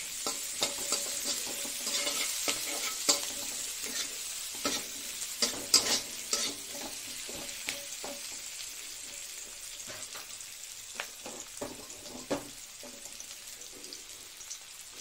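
Eggplant fries in a pan with a steady, close, crackling sizzle. Scattered spoon scrapes and pops come through the oil noise.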